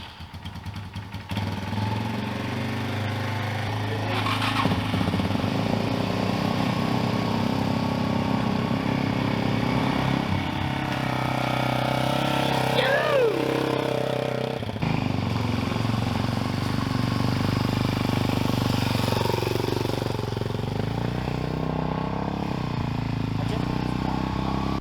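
Two motorcycle engines run steadily at close range while the bikes are moved toward a trailer, a continuous idling drone with slight revving that lasts throughout.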